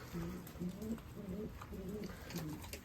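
Soft, repeated pigeon coos in low rolling phrases, several calls overlapping against steady outdoor background noise.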